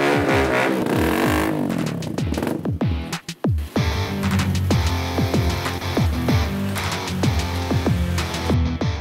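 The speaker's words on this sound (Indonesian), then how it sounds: "Berisik banget motornya." Motorcycle engine revving repeatedly in loud, close bursts, with sharp rising and falling whines and rumbling idle between them, interrupted by a brief clatter and a short gap.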